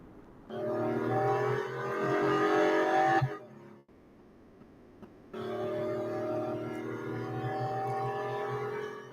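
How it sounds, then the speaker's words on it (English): Car engine in the Real Racing 3 mobile game, a loud droning roar that drops away abruptly for about two seconds of near quiet, then returns at full strength to the end. "It's a little bit annoying, that sound of that car."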